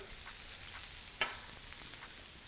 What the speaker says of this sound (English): And this takes approximately 5 minutes or so to saute off.